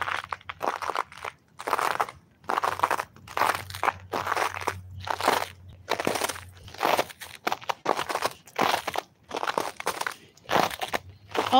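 Footsteps crunch through snow in a steady walking rhythm, each step a close, crisp compressed squeak-crunch, over a low background hum.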